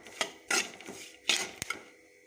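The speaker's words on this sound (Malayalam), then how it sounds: "തേങ്ങ നല്ല ബ്രൗൺ കളറാകുന്നത് വരെ വറുത്തെടുക്കണം കേട്ടോ." Grated coconut roasting in a pan while a spoon stirs it, giving a few scraping metal knocks at an uneven pace, close up and fairly quiet with no voices.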